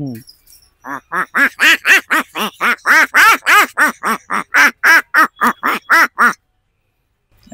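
A mimicry artist from Assam imitates a duck, giving about twenty loud, nasal quacks in a steady, rapid rhythm, followed by a brief silence.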